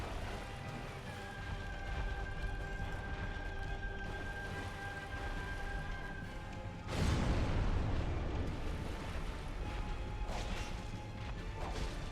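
Big booming explosions from the Asylum Demon boss's attacks in a modded Dark Souls-style game, a sudden loud crashing blast around the middle over a steady dense rumble of game noise.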